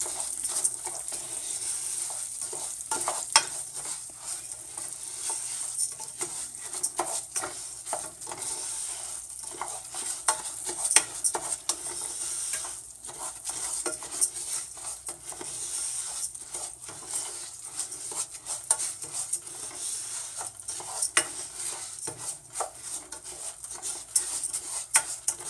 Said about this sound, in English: You want to stir it around, coating it in all the oil.